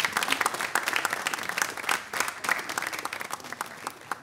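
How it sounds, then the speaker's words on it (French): An audience at a French television show applauds a mother, dense steady clapping filling the whole stretch at moderate level with no talk over it. "On applaudit pour maman."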